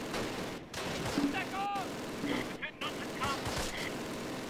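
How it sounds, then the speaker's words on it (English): Heavy gunfire and machine-gun bursts crackle through a Close Combat battle at Pontaubault, WWII fighting in fog with mortars, coming as repeated sharp volleys and rattles under and between a player's talking, moderately loud. "We're under heavy fire."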